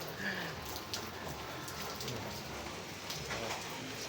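Steady rain falling outdoors near a junk collection spot, a faint, continuous hiss of drops with occasional brief spatters, no voices clearly present.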